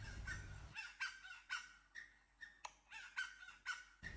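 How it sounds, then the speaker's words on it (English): A grey jungle fowl gives a repeated distress call in a tiger reserve, a series of harsh, evenly spaced squawks about every half second, clear and fairly close against a quiet outdoor background. "we heard the distress call of a grey jungle fowl"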